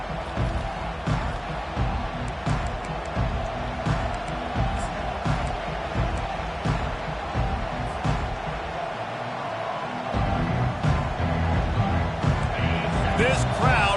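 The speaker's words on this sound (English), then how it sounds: "This crowd bringing an ear-splitting welcome to their visitors." A stadium crowd roars constantly through a college football video game with Texas Longhorns at home, its dense din swelling louder near the end as commentators talk over it.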